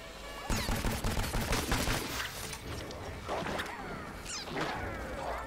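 Chaotic gunfire and impacts from the shooter game Plants vs Zombies Garden Warfare 2, with sharp cracks, whacks and swooshing bursts scattered throughout, loud and close, with voices mixed in.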